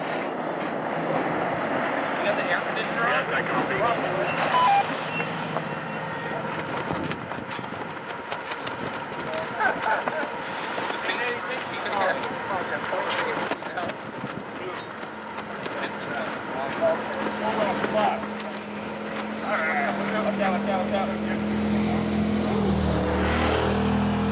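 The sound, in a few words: Hall Racing Chevrolet Silverado race truck pulling into pit lane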